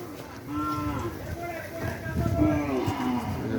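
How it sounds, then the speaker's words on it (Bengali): Cattle moo in drawn-out, overlapping calls at the Postogola cattle market, several animals lowing at once while a person talks over them. "অনেক গরু আসছে"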